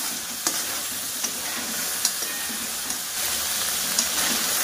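Finely ground red masala fries in oil for a drumstick-pod curry, producing a continuous close hiss and crackle broken by regular scraping strokes of a spatula against the pan.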